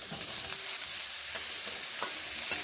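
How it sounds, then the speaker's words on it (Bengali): Pieces of moringa drumstick fry in a pan with a steady, close hiss and crackle, stirred now and then across a short stretch with no talk. "সজনে ডাঁটাগুলোকে ঠিক এইরকমভাবে ভালোভাবে ভেজে নিচ্ছি।"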